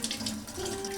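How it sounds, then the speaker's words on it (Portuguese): Tap water runs steadily over a boiled, peeled egg held under the stream in a home kitchen sink, a close, continuous splashing hiss with a brief dip partway through. "E aí eu coloco na água corrente."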